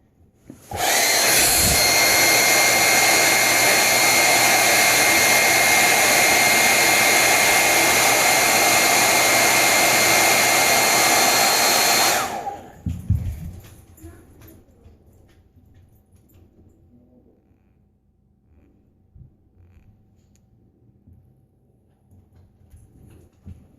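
A handheld heat tool blows a loud, steady hiss of hot air to soften nail wraps, running for about ten seconds before it clicks off, leaving faint handling noises.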